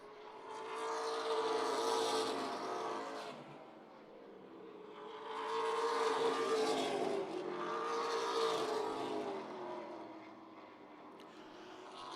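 Pro Stock race cars lapping a track in the closing laps, their engines swelling as they pass and fading again, twice over at a moderate distance, with no talking.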